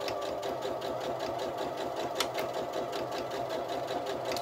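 A sewing machine runs steadily, stitching fabric for a Christmas stocking, its even rapid needle rhythm continuous and close with a brief louder click partway through.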